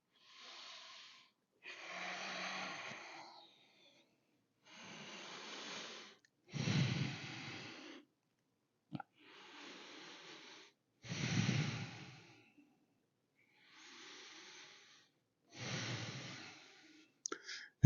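Slow, audible breathing through a yoga flow into a forward fold, long breathy inhales and exhales alternating in regular bursts with pauses between, fairly close and quiet, with no talking.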